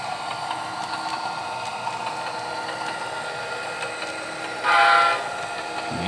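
A brief train horn blast on a model railway sounds over the steady rumble and clatter of a moving train, lasting under a second.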